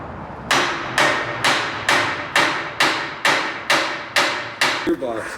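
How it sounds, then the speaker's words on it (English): Nine sharp, evenly spaced metal hammer blows ring out one after another inside a car wash tunnel, each strike loud and close with a short decaying ring. "can still hear him hammering right now"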